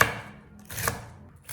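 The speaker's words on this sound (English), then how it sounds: "or finely chop them like this to sprinkle over finished dishes" A knife finely chopping green onions on a cutting board, a few sharp close taps at an uneven pace separated by brief pauses, with no voices.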